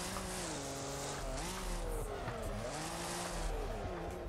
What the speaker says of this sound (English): more of a wheel slide because the suspension is so soft